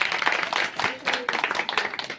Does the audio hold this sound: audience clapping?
yes